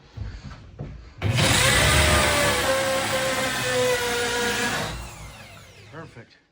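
A power drill bores into wood for electrical wiring in an off-grid tiny home, starting abruptly and running as a loud steady whine for about four seconds before winding down, with brief handling noise on either side.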